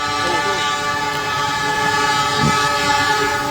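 A train passes a railway level crossing while the warning signal sounds steadily, with loud continuous rumbling and a sustained tonal ring throughout.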